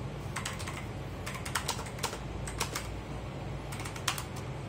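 Clacky keystrokes from a GAMDIAS HERMES E1 mechanical gaming keyboard come in quick bursts and pauses over a low background hum, close by with no talking.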